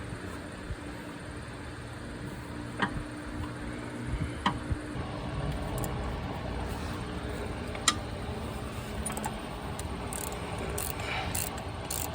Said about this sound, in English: Now I gotta try to get my wrench on there.